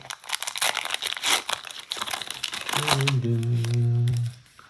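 A Halloween 2024 Pokémon card booster pack torn open by hand: close, continuous foil crinkling and crumpling with a sharp tearing rip, followed by a sustained hum-like tone as the wrapper comes apart.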